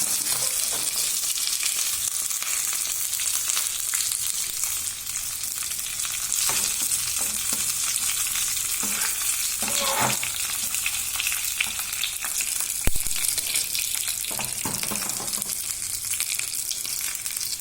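Chili and curry leaves fry in coconut oil, giving a steady close sizzle and crackle throughout, with occasional stirring scrapes and a sharp tap on the pan.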